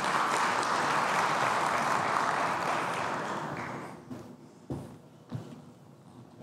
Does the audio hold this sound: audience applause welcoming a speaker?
yes